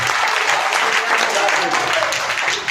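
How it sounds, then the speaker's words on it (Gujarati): Applause from a crowd at a village token prize draw, a dense continuous wash of clapping throughout with voices mixed in. "જોરદાર તાળીઓ"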